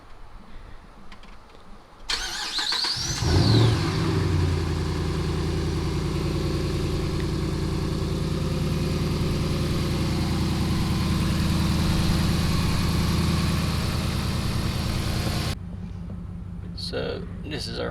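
A Ram 1500 pickup fitted with a new cold air intake and no clutch fan cranks briefly and fires up, then settles into a loud, steady idle that runs for over ten seconds before cutting off.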